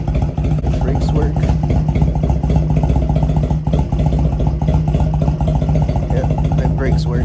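A 1986 Honda Rebel, a tiny motorcycle, its engine idling with a steady close-up putter and rapid pulsing throughout, while a person talks over it.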